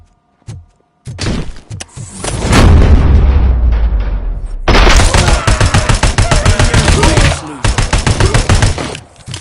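Video game gunfire in a heavy, loud burst, with dense rapid shots and booming impacts that start after a brief quiet and continue as a rattling stream with short pauses.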